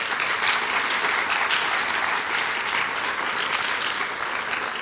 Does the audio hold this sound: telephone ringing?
no